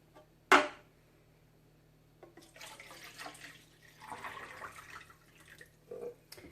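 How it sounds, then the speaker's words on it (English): Water sloshes from a can into a pot of spaghetti sauce in short, gurgling pours after a sharp clink, quiet and close with gaps between. "So I'm basically just cleaning out the can and adding water to our spaghetti sauce."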